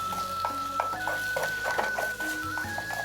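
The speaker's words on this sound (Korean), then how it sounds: "이거를 기름에다가 볶아주세요." Chunjang with ramen soup powder, olive oil and cooking oil stir-fried in a pan, a soft continuous sizzle broken by repeated spatula scrapes and taps against the pan, with a steady whine running underneath.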